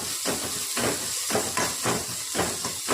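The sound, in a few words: sautéing curry leaves and green chillies in a pan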